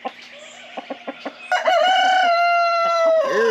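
An American Breese rooster crows once, nearby and loud, its long drawn-out call following several short clucks and ending with a falling note.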